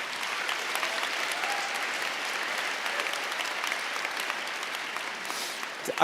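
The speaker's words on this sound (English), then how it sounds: "let's give them another round of applause" A crowd at a food awards ceremony in San Francisco gives another round of applause to the coffee community, an even, sustained clatter of clapping that holds steady from start to finish.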